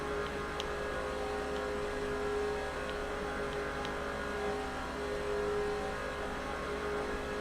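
Steady, continuous engine drone of a race car lapping Daytona in NASCAR 06, held at an even pitch from start to finish with a faint whine on top and nobody speaking.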